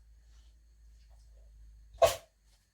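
A dog gives one short, loud bark on command at close range in a quiet room, after a long near-silent pause.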